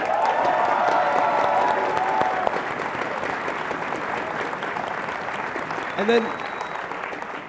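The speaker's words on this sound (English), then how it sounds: "Let's give them another round of applause." Crowd applause at an IPL4 tournament in Las Vegas, a broad steady wash of clapping and cheering from a large audience that fades slightly, with a voice speaking briefly over it.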